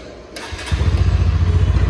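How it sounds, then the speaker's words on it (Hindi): A 2024 Bajaj Pulsar NS 125 motorcycle engine fires up and settles into a deep, steady, throbbing exhaust burble close by, with no talking. "मैं आपको इसका एक बार एग्जॉस्ट नोट सुना देता हूँ"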